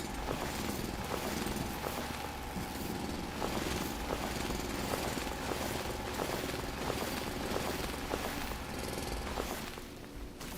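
In the factory-building video game Foundry, a drill grinds through terrain in a loud, continuous mechanical roar with rhythmic repeated impacts, fading slightly near the end.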